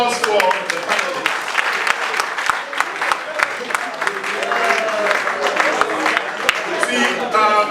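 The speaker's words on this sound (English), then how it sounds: "please, a round of applause for the panelists" An audience at an energy-sector panel dialogue claps for the panelists, a steady dense burst of applause with scattered sharp claps filling the room, close and sustained.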